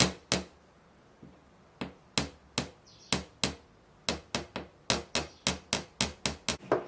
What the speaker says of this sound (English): I make this flat by hammer.